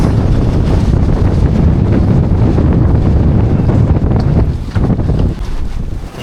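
Strong gusting storm wind during a Kalbaishakhi squall by the Jamuna river, roaring loudly and continuously into the microphone with heavy buffeting, easing slightly near the end.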